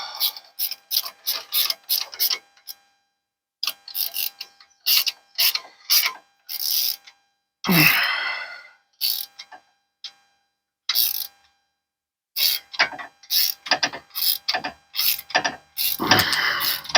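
A ratchet wrench clicks in short bursts while tightening the tie rod adjusting sleeve on a 2010 Jeep Wrangler, with quick close ratcheting runs separated by pauses and a brief metallic clank midway.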